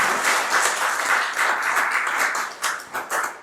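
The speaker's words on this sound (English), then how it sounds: "let's give all our sponsors and Rohs a nice round of applause" An audience at a songwriters circle at Rohs Opera House applauds its sponsors with a full, steady round of clapping that thins out into a few scattered, separate claps at the end.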